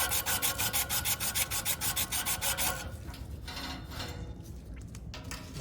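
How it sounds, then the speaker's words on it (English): Emery cloth rubbed by hand up and down a rusted blower motor shaft: a close, steady run of quick rasping strokes for about three seconds, then fainter, scattered scrubbing. "I take a piece of this sandpaper, emery cloth,"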